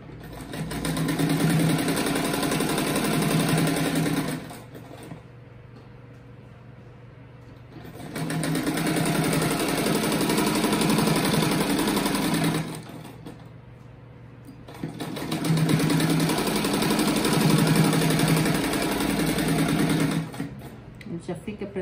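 A sewing machine stitches a seam on a ruffled fabric fish-shaped rug in three loud, close bursts of fast whirring, separated by quieter pauses where a voice speaks.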